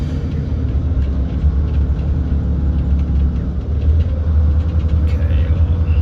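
A truck engine drones steadily from inside the cab while driving on a road, a continuous low rumble with road noise and no talk.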